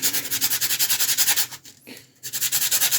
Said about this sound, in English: So I'm just using a fine sanding sponge.